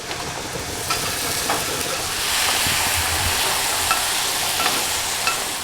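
A burger and french fries sizzle and fry on a grill, a steady loud crackling hiss with occasional scrapes and clicks, up close with no talk.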